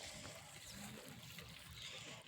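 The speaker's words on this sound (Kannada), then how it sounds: "ಬೆಳಗ್ಗೆ ನೀರು ಹಾಸೋದು ನೋಡಿ" Water being poured or splashed in the morning in a village yard, a steady faint trickling and spattering with a soft wash of noise throughout, heard from close by with no talking.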